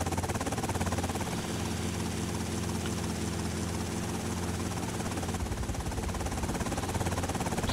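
Helicopter flying in the video game GTA Vice City, a continuous dense rotor and engine drone at steady loudness, sustained without talking.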